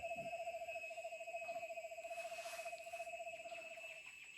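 A person imitates an Eastern Screech Owl during birding in Guyana, holding a steady, quavering whistled trill for about four seconds, faint against a quiet background hum.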